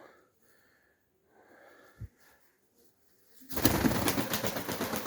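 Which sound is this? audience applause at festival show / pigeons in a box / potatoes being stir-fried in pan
pigeons in a box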